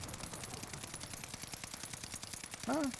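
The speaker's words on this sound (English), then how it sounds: "So just ADS and shoot at a wall, see where the recoil goes at first." Rapid automatic fire from an STG44 in a video game, aimed at a wall: a dense, steady burst of close, loud shots in quick rhythm throughout, with no talking.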